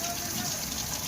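Heavy monsoon-style rain falling in a village yard, a dense steady hiss of drops pattering on surfaces, continuous and fairly close.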